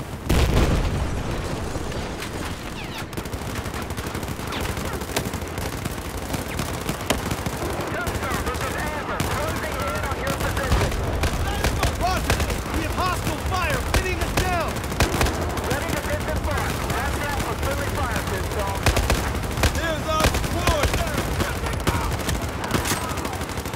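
Dense, relentless machine gun fire rattles through a Battlefield 4 battle, with bursts overlapping booming impacts in a loud, unbroken wall of combat noise.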